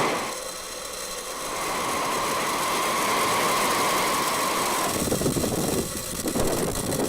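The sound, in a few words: Falcon 9 rocket engines during Starlink launch liftoff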